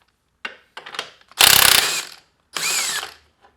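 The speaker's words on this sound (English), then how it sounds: "I'm going to use an impact gun." An impact gun works a 22 mm nut loose during engine removal on a CR125 motorcycle, heard close up as a sharp rattling burst, with shorter whirs before it and after it.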